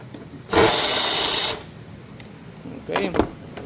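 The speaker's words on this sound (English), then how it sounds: "now you're gonna remove these 3 screws on the top" Power tool spinning out screws on top of a Nissan Altima 2.5 alternator: one loud, close whirring burst of about a second, followed by a couple of shorter, quieter buzzes and clicks.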